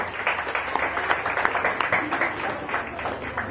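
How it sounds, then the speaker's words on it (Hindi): An audience breaks into applause, a busy patter of many hands clapping at an even level across the few seconds, with voices faintly mixed in. "तो जोरदार ताली"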